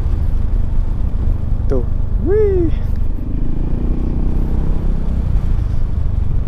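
A Yamaha Xmax 250 2018 scooter on a test ride, its engine giving a steady low rumble mixed with wind noise throughout, while a rider briefly exclaims over it.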